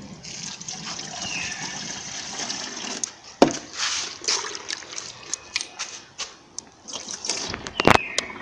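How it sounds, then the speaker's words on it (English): Water poured into a water-powered generator machine, a soft continuous trickle and splash with a few sharper splashy bursts, close and moderately quiet. "I just fill the machine with the water."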